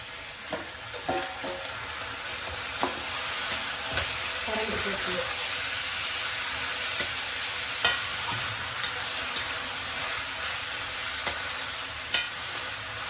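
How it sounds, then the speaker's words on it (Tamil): Onions and tomatoes fry in a pan for mutton biryani, giving a steady close sizzle with scattered stirring clicks and scrapes; a voice talks in places over the frying. "இது நல்லா ஃப்ரை ஆகட்டும், நல்லா ப்ரௌன் கலர் ஆகட்டும்."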